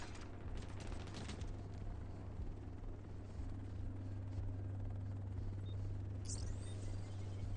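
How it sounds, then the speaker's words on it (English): Extraction helicopter arriving in The Division 2, a steady loud rotor drone and low engine hum running throughout with bursts of gunfire and game effects layered on top. "Helo at the extraction zone."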